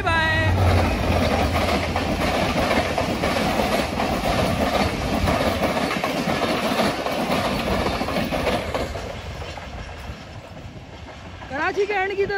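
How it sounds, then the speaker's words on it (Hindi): Mehran Express passenger train rushing through Dabheji railway station toward Karachi at about 85 km/h, a loud, steady roar with rhythmic clickety-clack of wheels over rail joints that gradually fades as it passes, while someone talks over it. "कराची के एंड की तरफ जा रही है तेजी के साथ मेहरान एक्सप्रेस, शानदार स्पीड में गई है तकरीबन 85 किलोमीटर की रफ्तार से।"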